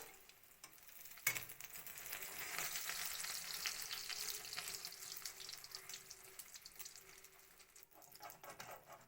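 An egg omelette being rolled over in a frying pan gives a quiet, continuous sizzle. A sharp tap and some scraping come early, and the sizzle softens toward the end.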